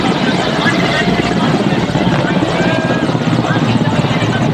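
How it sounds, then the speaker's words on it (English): Indian Air Force helicopters flying over the Rashtrapati Bhavan at a state parade, a loud continuous rotor drone mixed with broad crowd and ceremony noise, with talk underneath. "Emerging from the skies of the Rashtrapati Bhavan are the Indian Air Force's B-71 helicopters"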